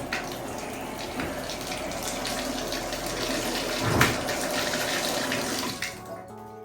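Water running steadily from a shower head after a dripping-shower repair, a dense continuous close hiss of spray and splashing that stops abruptly at the end.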